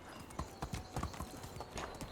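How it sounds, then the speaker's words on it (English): Horse hooves gallop in a fast, even clip-clop rhythm in the video game Medieval Dynasty. They sit faint under game ambience, with no talking. "now my horse can run"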